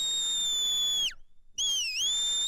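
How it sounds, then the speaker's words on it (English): A shepherd at a sheepdog trial gives two loud, clear flank whistles to the dog: a long falling whistle, a brief gap, then a second bending whistle. "Two flank whistles."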